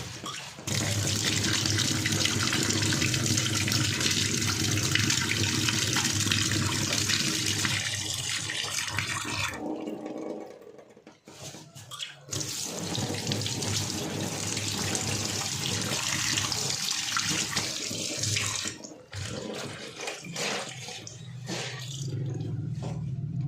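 Tap water runs hard and steadily into a sink while fish is washed at home, a loud continuous splashing rush that breaks off briefly in the middle and then resumes, with no talking.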